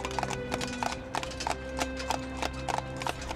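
Morgan horse hooves clip-clop in a quick, even rhythm of sharp strikes, close and clear, over a steady low background hum, with no talk.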